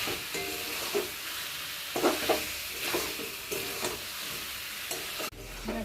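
Potatoes and chicken are being stirred and cooked down together in a pan, with a continuous sizzle and repeated spatula scrapes. Near the end, a brief clunk is followed by a low rumble.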